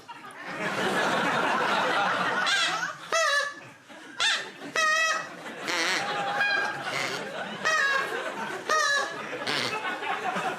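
A person imitates honking geese, a run of nasal calls in bursts of varying pitch, with chatter and laughter around it.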